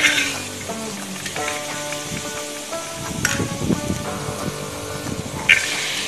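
Sliced onion and carrot for a Kerala-style vegetable biriyani sizzle and crackle in a hot pan while browning, a busy close frying hiss with scattered sharp pops and some clinking of utensils.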